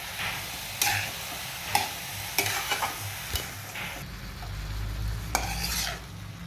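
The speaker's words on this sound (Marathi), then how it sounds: "इथे छान आपण डाळ आणि पात मिक्स केलेली आहे." A spoon scrapes and taps around a pan while dal and green onion leaves cook together, sizzling underneath with a steady background hum and rhythmic stirring knocks.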